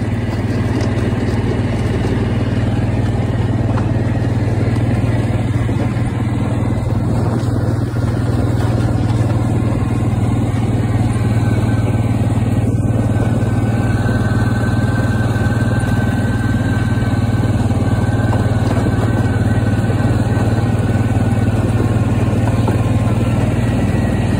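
A motorcycle engine runs steadily on a frozen lake, a continuous loud low drone with a faint higher whine, unchanging throughout with no talk.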